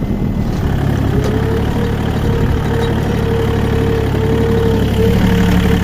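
A tractor engine runs loud and steady under load with the plough lowered, a continuous low rumble with a faint high whine that holds throughout, no voices.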